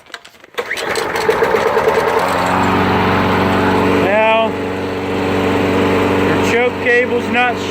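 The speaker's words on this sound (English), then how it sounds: "Cable's not shutting this engine down." A Troy-Bilt walk-behind lawn mower engine starts and runs at a steady, buzzy idle up close, with brief clanks and some rising whines over the drone.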